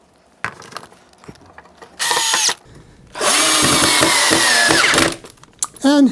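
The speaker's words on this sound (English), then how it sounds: "Now we'll just drill this one and attach him." A power drill whirs in two bursts, a short one and then a longer sustained run, close by, with brief ratcheting clicks between.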